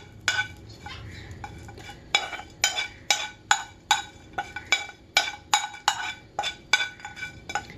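A spoon works grated jaggery and raisins into a ragi flour mix in a bowl, making a string of regular scraping, clinking strokes close up, each stroke short and distinct, repeating about twice a second.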